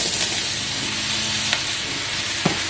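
Mushrooms dropped into a hot pan for a stir fry, producing a strong, continuous sizzle with stirring noise and a couple of sharp clicks from the utensil, heard up close without speech.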